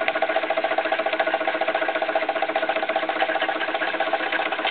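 A Jensen steam engine drives a Baker fan, producing a fast, even mechanical chugging with a steady whirring drone, close and continuous throughout with no voices.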